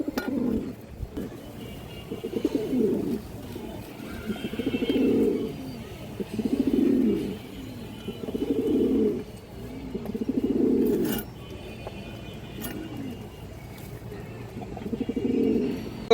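Domestic pigeons coo nearby in a repeating pattern of low, throaty, rolling phrases every second or two, set against a quiet outdoor background.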